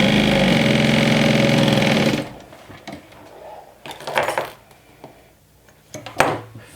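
A sewing machine runs steadily and loudly for about two seconds while top stitching a bag's inside slip pocket, then stops, followed by a few soft handling clicks and rustles of fabric.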